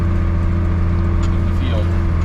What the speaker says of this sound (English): first baler is coming down the road